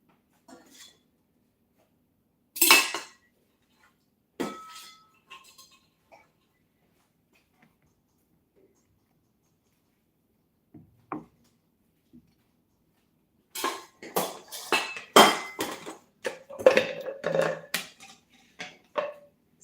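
A whisk is lifted from a pot of egg and milk mixture for vanilla ice cream, giving sparse metallic clinks and taps, then a quick cluster of rattling utensil knocks near the end, close and fairly quiet.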